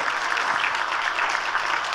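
Steady, dense audience applause, an even wash of many hands clapping at close range, with no talk over it.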